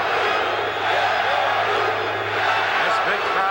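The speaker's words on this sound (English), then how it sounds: "This big crowd chanting, "Let's go Blues."" A large St. Louis Blues hockey crowd chants steadily and loudly at a 1986 playoff game against Calgary, a dense roar that fills the arena the whole time.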